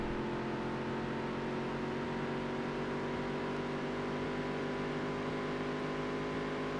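A Featherlite modified race car on the track gives a steady, droning engine whine at constant pitch, fairly faint but unbroken, with no clear pass-by swell.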